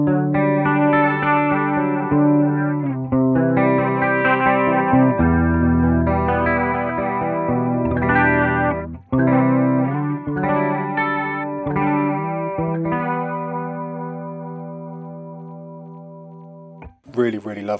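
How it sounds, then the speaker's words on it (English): An Edwards Les Paul Custom electric guitar through a Chase Bliss Warped Vinyl MK2 chorus pedal, with strummed chords and single notes shimmering with a lush wavering chorus, played alone and ringing out at the end. "Starting off with a solid chorus sound there."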